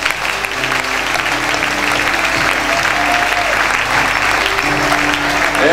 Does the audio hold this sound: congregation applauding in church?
yes